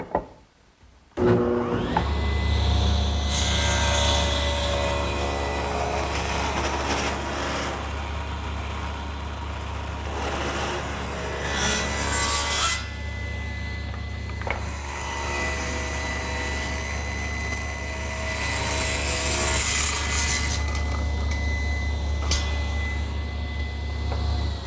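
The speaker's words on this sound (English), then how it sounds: "I'm going to start by taking this 3/4 inch cherry and ripping 1/8 of an inch" A very sharp thin-kerf saw blade rips thin strips off 3/4 inch cherry, a loud continuous machine drone with shifting cutting noise over it, running steadily for the whole stretch without speech.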